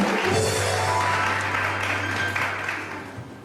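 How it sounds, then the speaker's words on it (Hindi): A television studio audience claps steadily for a guest, a dense even patter of applause that fades gently toward the end, with a low hum beneath. "इनके लिए भी तालियां बजा दीजिए।"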